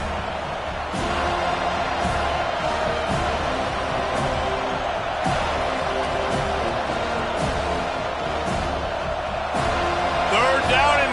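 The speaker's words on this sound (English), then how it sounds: "this crowd is tearing the lid off this place" A college football stadium crowd at a Florida State versus Boston College game roars and cheers in a loud, sustained swell, with an excited commentator talking over the noise and sharp bursts rising from the crowd.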